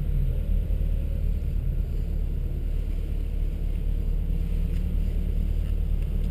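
A 2013 Mercedes-Benz SLK55 AMG engine runs with a steady, deep low rumble, heard close and unchanging for several seconds without any talk.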